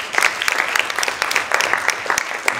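Sustained audience applause for the Camille Sée debate team at a school debate, many hands clapping densely and loudly for a few seconds, with scattered sharper claps standing out and no talk over it.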